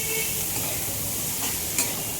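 Soaked kurdai stir-frying in a pan give off a steady, close hiss of sizzling with faint stirring scrapes, and no one speaks.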